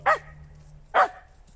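Two sharp barks from a nearby dog, about a second apart, each short and loud against a quiet background.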